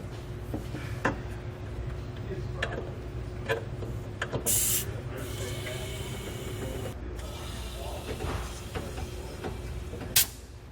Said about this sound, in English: We can now air up our airbags and then we'll check for leaks.